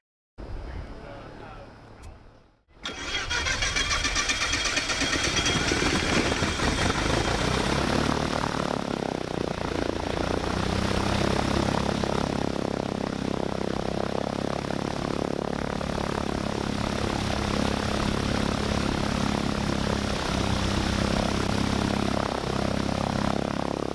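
A Diamond DA40-180 aircraft's piston engine cranks and catches after a short quiet moment. It then settles into a loud, steady propeller drone that runs on unbroken at close range, with some talk mixed in.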